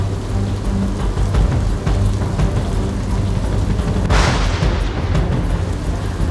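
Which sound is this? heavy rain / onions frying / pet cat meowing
heavy rain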